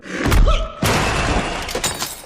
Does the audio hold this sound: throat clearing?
no